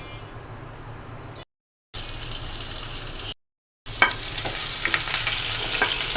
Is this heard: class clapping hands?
no